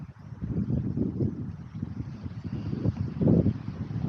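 Wind buffets the microphone on a hilltop ridge at higher elevation: a continuous low rumbling roar that swells and gusts, loud and close, with no other sounds.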